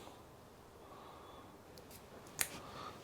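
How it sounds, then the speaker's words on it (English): A single sharp snip as a motorcycle outer cable on a Royal Enfield Bobber is cut, one brief crisp click near the end of otherwise quiet room tone. "Where I want to cut the outer cable."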